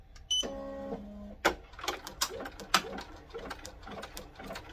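A Ricoma EM1010 embroidery machine stitches a design, its needle tapping out a rapid, steady mechanical clatter after a brief tonal beep and whir as it changes color; close but fairly quiet, with no talking.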